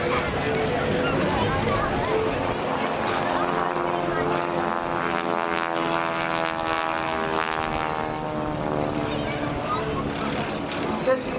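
A Fairey Swordfish biplane drones loudly and steadily overhead at an air show, its engine note sweeping as it passes, with voices talking over the noise throughout.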